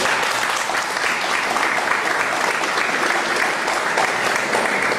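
Strong, sustained applause from an audience at an academic ceremony honoring a doctor's presentation, dense and steady throughout with no talk.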